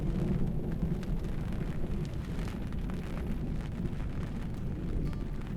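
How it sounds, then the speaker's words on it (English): A massive overnight thunderstorm rolls through a river valley near Moab, Utah, as a dense, steady roar of rain and wind with deep rumbling underneath, loud and continuous, with no voices. "Overnight, a massive thunderstorm would roll through the valley."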